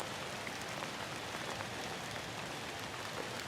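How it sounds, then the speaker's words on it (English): Steady rain falls on a swamp woodland during a self-filmed bow hunt, a dense even patter of drops on surfaces with no pauses. "it's raining on me"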